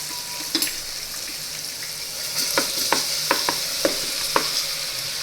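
Asafoetida, turmeric and garlic paste sizzle steadily in hot oil for a Gujarati bottle gourd and lentil curry, with a run of sharp spoon scrapes and stirring clinks against the pan partway through; no voices.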